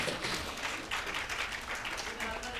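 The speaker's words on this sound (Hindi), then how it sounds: "एक बार तालियां बजा दीजिए।" Hindi comic poetry audience clapping at a live kavi sammelan, a steady dense wash of applause throughout, fairly distant and even in level.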